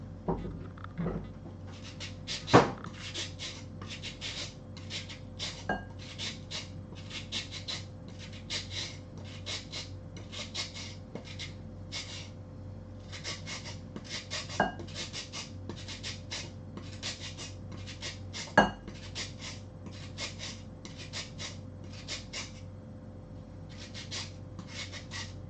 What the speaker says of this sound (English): Still grating the carrots.